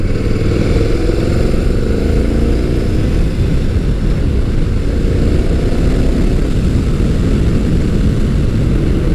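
Motus MSTR 1650cc V-4 motorcycle engine heard while riding at moderate revs, a loud continuous deep drone with wind rush, steady throughout with no talking.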